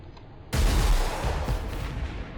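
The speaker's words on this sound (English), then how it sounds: "it's just always the same volley of missiles every time" A Deathstrike missile unit fires a volley in the video game Armageddon: a loud barrage bursts in abruptly, then rumbles on as a dense, crackling roar that slowly fades, with no voices.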